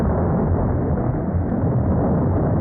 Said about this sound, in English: The explosion obliterated a small minefield somewhere.